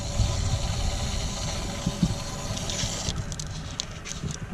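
Water rushes into a newly plumbed hot water tank, a steady low gushing and pattering that runs throughout, with faint higher clicks and taps near the end.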